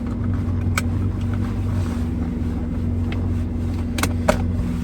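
A Porsche 964's air-cooled flat-six runs steadily at close range, a constant low droning hum with a few faint clicks and taps over it, no talking.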